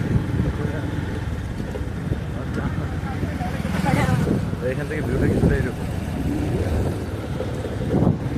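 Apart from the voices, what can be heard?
cool wind blowing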